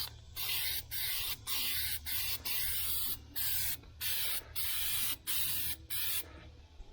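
A spray paint can hisses in repeated bursts while coating the interior of a 1976 El Camino, about ten loud, even sprays separated by short pauses.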